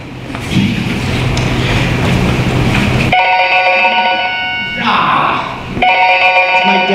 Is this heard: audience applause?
no